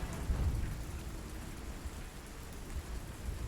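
Rain and thunderstorm ambience in the video game Spellforce 3: continuous dense rainfall with a low rolling rumble, steady throughout with no talking.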